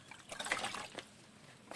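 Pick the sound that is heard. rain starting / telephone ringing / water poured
water poured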